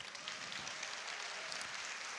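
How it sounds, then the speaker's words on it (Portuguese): Audience applause for the speaker's parents at a talk, a steady, dense patter of many hands clapping that holds evenly and fairly quietly throughout with no voices on top. "uma salva de palmas para eles"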